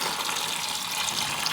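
Coolant pouring into a 1990 Mazda Miata during a coolant flush makes a steady, close hiss of splashing liquid throughout, with no talking.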